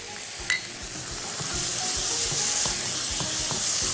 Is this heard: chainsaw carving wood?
no